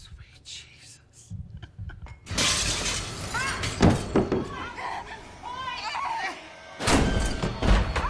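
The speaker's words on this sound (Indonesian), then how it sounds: "Eric melempar kaca jendela hingga pecah mengagetkan" Window glass hurled and shattering in a horror film scene, a sudden loud crash with scattering shards, followed by another sharp impact, with whispering voices before and talk in between.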